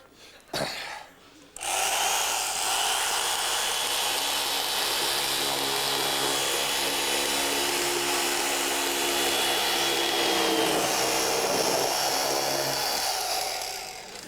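A power saw roars steadily and loudly for over twelve seconds after a brief start-up burst, with no talking over it.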